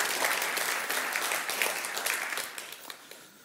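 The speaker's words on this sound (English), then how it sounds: "Please, warm applause for Marcel Metze" Sustained audience applause from a lecture hall crowd greeting a speaker, a dense steady wash of many hands clapping that gradually thins and fades toward the end.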